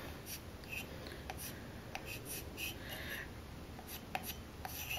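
Chalk writes on a glass painted with chalkboard paint, giving soft, close, scratchy strokes in short bursts against a faint background hiss, with no voices.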